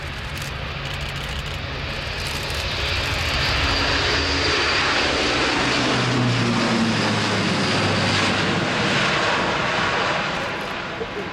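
An Airbus A400M Atlas military airlifter in a flying display at RIAT 2019, RAF Fairford, its turboprop engines giving a loud, steady roar that swells and holds as it passes, with no talk.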